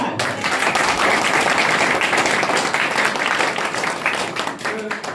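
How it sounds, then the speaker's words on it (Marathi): A crowd at a Buddhist community felicitation ceremony breaks into sustained, loud applause, many hands clapping steadily for several seconds before it begins to thin out. "एकदा जोरदार टाळ्या हो द्या"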